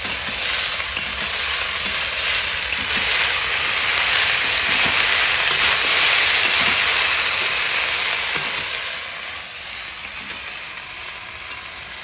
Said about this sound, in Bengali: ক্যাপসিকাম গুলো এতে দিয়ে দেবো।